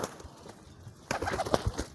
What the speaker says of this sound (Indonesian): merpati piyik giring perdana